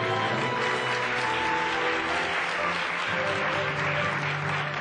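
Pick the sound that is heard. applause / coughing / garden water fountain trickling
applause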